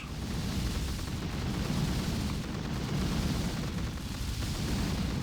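Rockets exploding in the mobile strategy game Boom Beach during a Forlorn Hope operation: a dense, continuous rumble of blasts and booms that stays steadily loud, with no voices.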